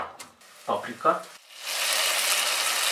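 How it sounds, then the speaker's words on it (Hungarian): Beef frying in a pan for goulash starts as a steady, bright sizzle after a brief spoken phrase, then holds at an even, hissing level to the end. "sütjük a marhahúst"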